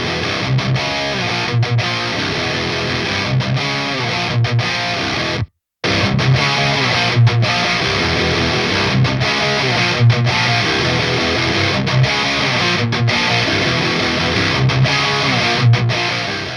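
A Marshall DSL100 guitar amplifier plays loud high-gain distorted guitar, a dense saturated wall of tone with rhythmic chugging, broken by one abrupt half-second dropout before the riff resumes and continues to the end.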